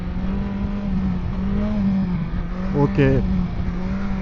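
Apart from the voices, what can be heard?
BMW S 1000 XR motorcycle engine revving in second gear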